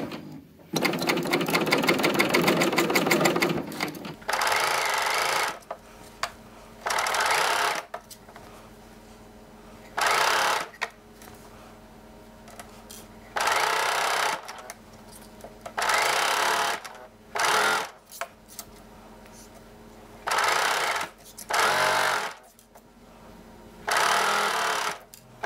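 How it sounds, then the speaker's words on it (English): A serger overlocks its way around a fabric seam on a Kwik Sew 534 vintage-style top, starting with one long steady whir and then running in repeated short bursts separated by pauses, close up and loud. "I'm just gonna serge carefully around"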